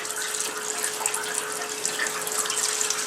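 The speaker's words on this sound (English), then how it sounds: "Now, I take my same parts washer, I stick a teeny hose in it." A parts washer pumps fluid through a small hose while old Mikuni carburetors from a Suzuki GS450 twin are cleaned, giving a steady, close splashing and gushing flow of liquid with a constant pump hum and no talking.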